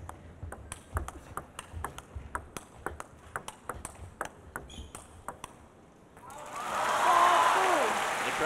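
Crowd applause rises and swells near the end of a women's singles semifinal table tennis match at the 2016 China Open, following a run of sharp ping-pong ball hits and bounces, with a commentator talking over parts of it.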